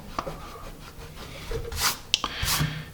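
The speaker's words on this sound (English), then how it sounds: "Let's try a natural rubber eraser here." A natural rubber eraser rubs out pencil marks on paper in short, close scrubbing strokes, with a few sharper scuffs and taps in between and no one speaking.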